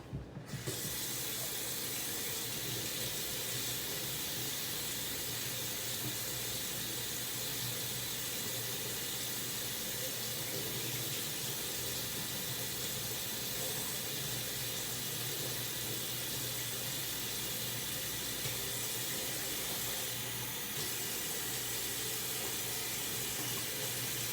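Hot water runs steadily from a kitchen tap after a brief start, a constant close hiss and splash that continues without break for over twenty seconds.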